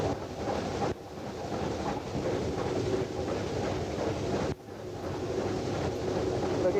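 Rack railway train descending from Mount Rigi through open country, a steady rumbling ride with wind buffeting the microphone and brief drops in noise.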